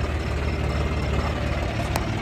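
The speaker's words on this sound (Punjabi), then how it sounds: "ਆਹ ਫਸ ਕੇ ਆ ਟਰੈਕਟਰ ਅੱਗੇ ਪਿੱਛੇ ਕਰਨਾ ਪੈਣਾ" A tractor engine idles with a steady, loud, low rumble; the tractor is stuck in a village field during night work and has to be moved back and forth.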